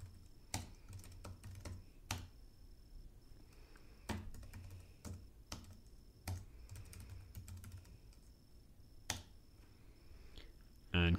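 Keys on a computer keyboard are tapped in short irregular bursts with pauses between, close and fairly quiet, as personal details are typed in; a voice is faintly present.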